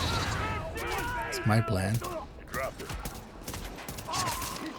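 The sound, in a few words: gunfire in a video game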